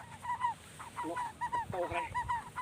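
A bird calls repeatedly in a rural village setting, a series of short honking, goose-like notes in quick irregular bursts, fairly faint with low background noise.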